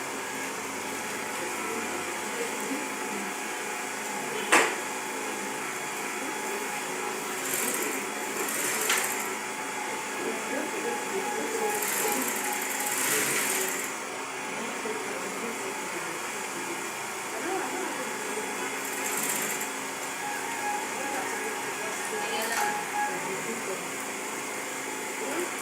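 A sewing machine runs a seam through trouser fabric, its motor a steady close whir that holds for the whole stretch, with a few short clicks and slight surges in speed.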